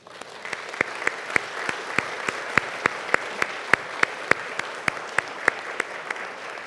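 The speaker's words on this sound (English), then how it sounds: "we'll give you all a nice round of applause at this time" Close, steady clapping with evenly spaced sharp claps goes on over a soft background wash of more applause at a hospital press conference.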